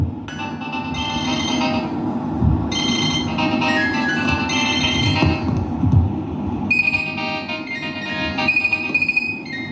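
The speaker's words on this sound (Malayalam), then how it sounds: "മേരി, നീ ഫോണെടുക്ക്." A telephone rings during a church women's group skit performed in a cathedral hall, a repeating electronic ringtone melody that carries on steadily over a low room murmur and background hum.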